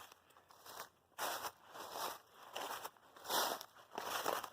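Footsteps crunch on dry leaves beside a forest trail in Panther Creek State Park in uneven bursts, close by, with crackling rustles between steps and no talking.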